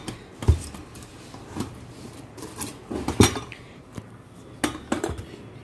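Pigeon stainless steel pressure cookers (2, 3 and 5 litre) and a lid being handled while unboxed, giving a series of close, sharp metallic clanks and knocks at irregular intervals with quieter rustling between.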